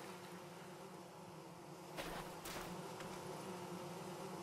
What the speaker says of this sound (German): wir haben hier was Bienenmäßiges gefunden